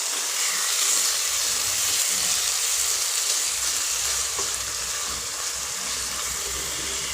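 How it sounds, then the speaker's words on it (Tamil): Coriander and fennel greens sautéing in a pan of hot oil while cooking a mutton kofta and bottle gourd dish: a steady, close, continuous sizzle and hiss throughout, with faint stirring and no talk. "நம்மளுடைய மல்லி செடியும் சோம்பு கீரை சேர்த்து வதக்கியாச்சு"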